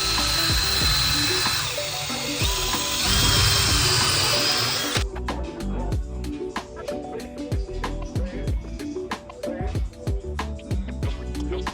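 A power drill whirs into drop ceiling framing for the first few seconds, loud and steady, then stops, leaving a run of sharp, regular clicks and taps.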